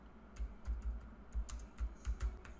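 Keystrokes on a computer keyboard during coding, a steady run of soft clicks in short bursts with brief pauses, close and fairly quiet, no talking.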